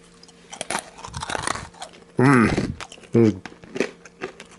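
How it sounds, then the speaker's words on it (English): Chiclets chewing gum is crunched and chewed close to the mic, with moist biting sounds and a couple of brief hummed vocal noises in between. "How do they know I love chewing gum while making reviews?"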